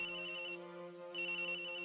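A telephone rings in the video game Ace Attorney Investigations: Miles Edgeworth, a loud electronic ring that cuts out briefly and then resumes, with no voices over it.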